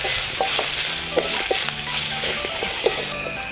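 Cooked beef pieces for beef lappa are stirred in a frying pan over a continuous sizzle, with repeated light clicks and scrapes of the utensil against the pan.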